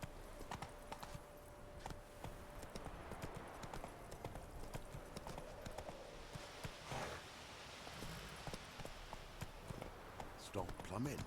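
Roach the horse galloping in The Witcher 3, a fast, steady clip-clop of hooves running along, with a voice urging it on.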